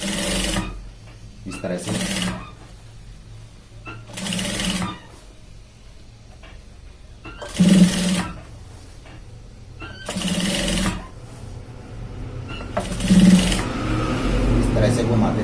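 A sewing machine stitches a shirt shoulder seam in six short, evenly spaced bursts, each a few seconds apart, while someone speaks Hindi between and over them.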